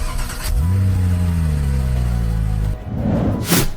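A car's engine catches and settles into a loud, steady droning rev for about two seconds. It then drops away into a short rustle and a brief burst of noise.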